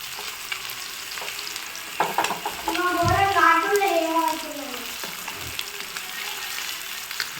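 Pieces of fish, four kilograms in all, fry in a pan with a steady, close sizzle and crackle, and a voice briefly talks over it in the middle.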